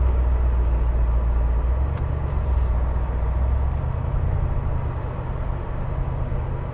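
Steady low rumble of a 2021 Mercedes G63 AMG driving on the road, loud engine and road noise holding constant throughout with no voices.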